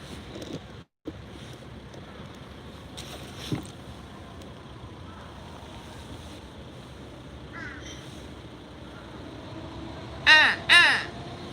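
Two loud crow caws near the end, with a faint earlier call, over steady wind and distant surf, by the sea in Kesennuma, Tohoku, Japan.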